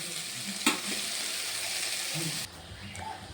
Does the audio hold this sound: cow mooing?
no